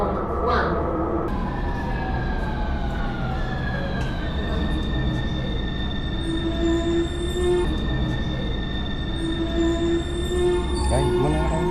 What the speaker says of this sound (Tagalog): So ito na mga Lodi, paparating na nga ang tren.